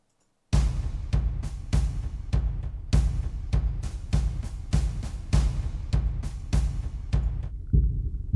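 A fast, heartbeat-like pulsing drum from the Sonuscore The Score sample library beats loudly and alone, with about sixteen evenly spaced thumping hits following a brief silence.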